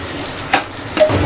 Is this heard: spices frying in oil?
yes